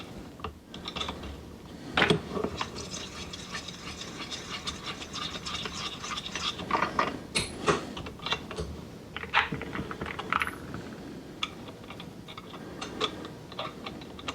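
Rifle brass cases being trimmed by a hand case trimmer: irregular clicking and ratcheting metallic scrapes, close and fairly quiet, with short bursts of cutting separated by pauses.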